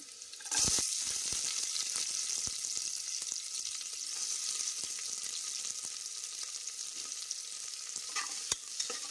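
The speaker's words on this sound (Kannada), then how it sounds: "ಎಣ್ಣೆಯಲ್ಲಿ ಈರುಳ್ಳಿ ಹುರ್ಕೋಬೇಕು" Onions frying in hot oil in a pan, a bright continuous sizzle that flares loudly at the start, then settles into a steady crackling hiss with occasional sharp pops and scrapes.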